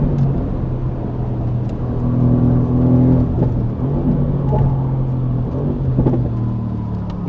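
Mercedes-AMG GT R pushed hard around the Nürburgring, a steady loud engine drone and rumble with rising and falling revs, heard continuously and close, with no talk over it.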